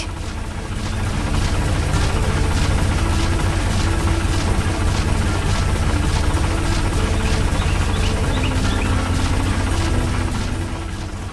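Loud, steady mechanical drone of factory conveyor belt machinery with a rhythmic pulsing beat, continuous from start to finish with no voices.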